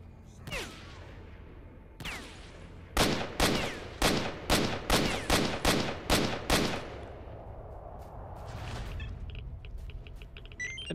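Sniper gunfire in S.T.A.L.K.E.R. Shadow of Chernobyl in the Red Forest: two isolated shots, then a steady run of about ten loud, evenly spaced cracks, followed by quieter game ambience and beeps.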